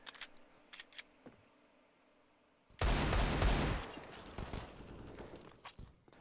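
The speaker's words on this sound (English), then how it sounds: "Zel's is desperately trying to get this wall bang, but it's just not going to happen." Rifle fire in Counter-Strike on the Inferno map, a dense one-second burst of wallbang shots through a wall, loud and close, followed by fainter scattered shots and game noise.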